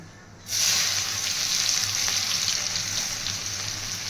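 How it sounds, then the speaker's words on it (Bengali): Chopped garlic, added after mustard seeds, fries in oil on a low gas flame. The sizzle bursts in suddenly after a brief quiet start, then holds as a close, even hiss. "এবারে ফ্লেমটা কমিয়ে ভাজতে হবে গ্যাসের ফ্লেমটা বাড়ানো থাকলে রসুনগুলো পুড়ে যাবে"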